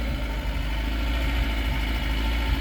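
An FSO Polonez 1.5 SLE engine runs with a steady, loud, low rumble on a short drive, heard continuously from inside the car with no talk.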